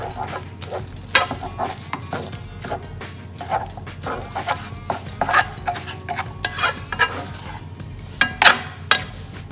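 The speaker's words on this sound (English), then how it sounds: "We are going to stir vigorously until the mixture is in a shape of a ball." Churro dough is stirred vigorously in a pot, giving repeated scraping knocks of a spoon against the metal at an uneven, busy pace, close and fairly loud.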